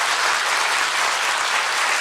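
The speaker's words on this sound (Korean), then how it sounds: "한번 크게 박수해 주세요." A church congregation claps loudly and steadily, a dense, continuous wash of hands filling the room without any voices.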